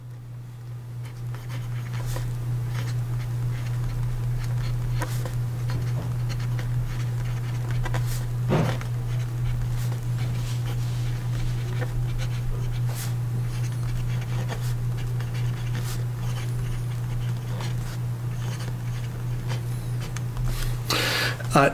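A Karas Kustoms Fountain K fountain pen with a firm nib writes on paper, giving soft, faint scratchy strokes in an irregular rhythm over a steady low electrical hum.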